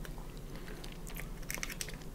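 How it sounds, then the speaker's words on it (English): Vietnamese grilled pork with rice (com thit nuong) is chewed close to a microphone, with soft wet mastication and a few crisp clicks and bites toward the end. "And you guys can hear more stuff, more chewing."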